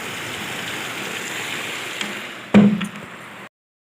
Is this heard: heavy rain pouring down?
yes